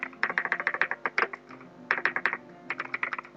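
Rapid bursts of keystrokes on a computer keyboard, close and crisp, with brief pauses between runs of typing as a school name is entered into an OpenOffice Writer template; no voices.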